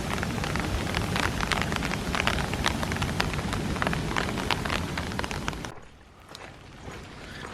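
Rain pours steadily in Beppu, Japan, a dense close patter with sharp drop impacts, then abruptly drops to a softer, more distant rainfall near the end.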